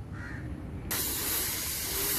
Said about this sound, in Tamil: இப்போ வந்து அப்பா தவுளோட நடுவலத்தை வந்து ஸ்ப்ரே பண்ணிக்கிட்டு இருக்காங்க.